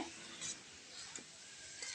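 A steady, quiet sizzle of spinach frying in a pan, with faint scraping and stirring clicks now and then.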